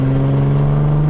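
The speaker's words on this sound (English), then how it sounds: "Sounds like a V8." A Nissan Skyline GT-R engine with a suspected fault holds a loud, steady, close drone with a strong low tone and only slight rise in pitch, heard alone.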